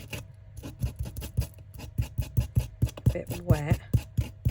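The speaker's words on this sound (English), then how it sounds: "Where's my sander? If we get it while it's still" A hand sanding block rubs back a painted surface for a vintage look in steady, rhythmic back-and-forth strokes, close and fairly quiet, with brief talk near the end.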